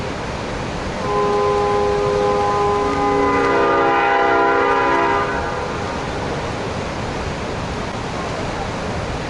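A train near Snoqualmie Falls sounds its horn in a sustained multi-tone blast lasting several seconds, rising out of a steady broadband rumble that continues before and after it.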